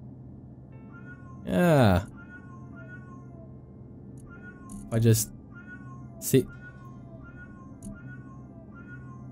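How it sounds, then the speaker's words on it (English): A cat meows in a Space Engineers game menu, one drawn-out call near the start followed by two shorter, fainter mews, set against a steady low in-game hum while someone speaks briefly. "it's a little meow there"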